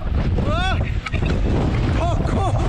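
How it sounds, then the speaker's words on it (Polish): Strong halny wind in the winter Tatra Mountains roars and buffets the microphone in gusts, with a voice speaking briefly over the blustery noise. "momentami, jak się zrywa wiatr"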